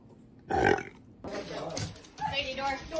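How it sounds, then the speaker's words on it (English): A loud, close burp rings out once, followed by voices talking and another croaky, burp-like sound in a noisy room. "Can you give me a burp?"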